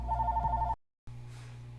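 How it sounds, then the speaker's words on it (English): A telephone rings with an incoming call: a loud, warbling electronic ring that cuts off briefly and then starts again. "I got a phone call."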